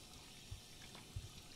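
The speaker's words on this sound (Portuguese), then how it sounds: "Ixi, deu pau mesmo no áudio da torneira." A glitching faucet in Life is Strange 2 runs as a faint, steady hiss of water with two soft low thumps, quiet and unchanging, no voices.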